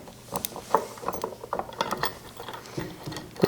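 A short bolt is threaded by hand into the leg of a Laurens accent chair, giving close, quiet, irregular metallic clicks and scraping ticks in a rapid ratchet-like patter.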